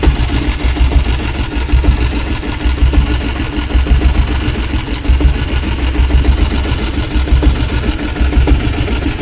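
A diesel Royal Enfield Bullet motorcycle engine idles close by with a steady, low, even thump that runs the full length without a break, and no one speaks.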